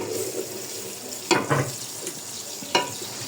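Onions browning in a pan in a home kitchen, a low continuous sizzle with a few sharp scraping stirs and clinks of a spoon against the pan, fairly close.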